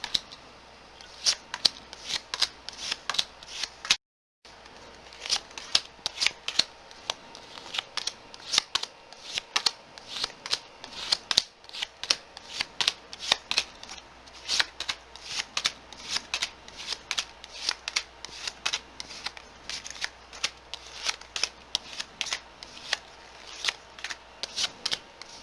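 Tarot cards shuffled steadily for about 25 seconds, giving a dense run of crisp riffling flicks and slaps at close range with one brief pause near the start, and no talking.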